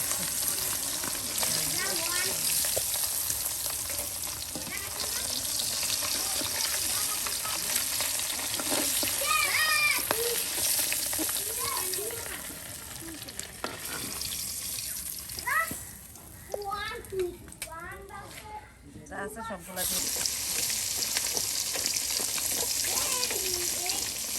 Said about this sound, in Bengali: এই যে ভেজে নেওয়া হচ্ছে দেখুন একদম তেলে ভেজে নেওয়া হচ্ছে ফুলকপিগুলো